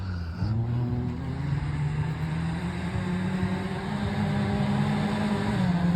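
A modified Polo GT rally car racing in Kerala, its engine holding a loud, steady droning note nearby with a brief shift early on, and no voices.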